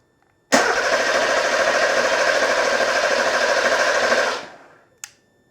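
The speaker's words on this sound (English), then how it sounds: "I'm gonna go ahead and crank it again" A Porsche 911 Carrera 3.2 engine cranks steadily for about four seconds without firing, a loud, even starter whir that winds down and stops, followed by a short click.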